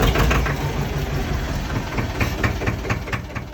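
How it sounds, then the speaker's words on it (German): A tractor engine idles steadily and fairly loudly, a continuous low rumble with a faint regular knock, heard alone without voices. "Ja, und der Traktor ist wirklich ganz, ganz oft im Einsatz."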